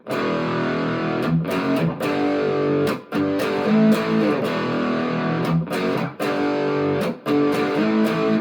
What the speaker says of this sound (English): That is the sign of a good distortion pedal.